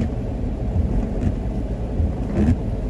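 A low, continuous rumble of thunder rolls on amid heavy rain in Ormoc, Philippines, with steady heavy background noise, moderately loud, with no voices.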